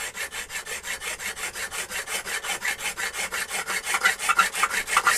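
Hand file filing down a part on a Mercedes W211 engine, for a valve cover leak repair: rapid, even rasping strokes of metal on metal, repeated steadily back and forth at close range, with no talking.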